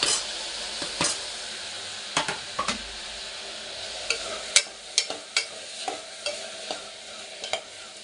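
Tomatoes being fried in a pan for a vegetable white pulao, a steady sizzle broken by sharp scrapes and clacks of a spoon stirring at irregular intervals, close and fairly loud with no one talking.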